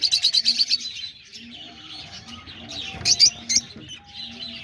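Peach-faced lovebirds in a mixed aviary with doves, a rapid run of sharp close chirps up front, then scattered squeaky calls and a few louder tweets, with soft cooing underneath.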